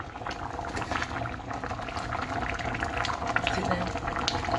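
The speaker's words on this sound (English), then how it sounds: "See the pot a bubble like trouble." A pot of Jamaican curry chicken foot bubbles steadily at a rolling boil, a continuous close simmering gurgle after long cooking.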